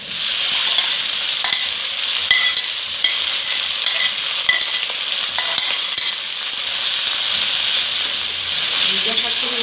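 Dhekia fiddlehead fern greens frying in hot oil with browned onions, a loud, steady hissing sizzle close by, broken by occasional sharp stirring clicks and scrapes.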